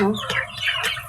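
A young rooster, a stag, gives a short series of harsh squawks close by, rough and strained, with a faint voice in the background.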